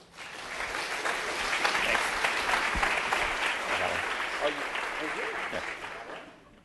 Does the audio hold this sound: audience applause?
yes